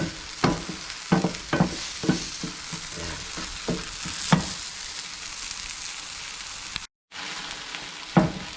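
Egg frying with alugbati greens in a pan, sizzling steadily while a utensil stirs and scrapes in a run of regular knocks, then a louder scrape near the end; no talk.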